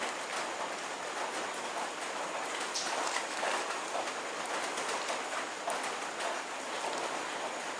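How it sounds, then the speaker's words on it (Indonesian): Steady rain falls throughout, a dense continuous hiss of drops with no talk over it. "Ini hujan, tapi panas."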